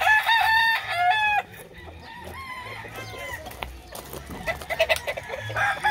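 A rooster crows loudly and close by, its long rising call repeating amid other birds and background commotion at a gamecock farm.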